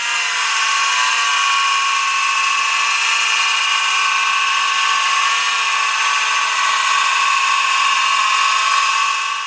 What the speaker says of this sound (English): I just drilled this spot right here now